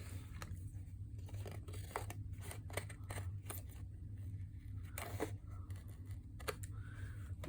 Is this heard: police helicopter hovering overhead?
no